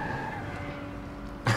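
A fast car races and skids in the Watch Dogs 2 video game, with a steady engine drone that ends in a sudden loud burst of tire noise.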